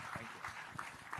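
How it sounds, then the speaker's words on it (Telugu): Audience applause at a Christian gathering, a short burst of clapping at moderate level that carries through the whole moment with no talk over it. "చప్పట్లు కొట్టాం."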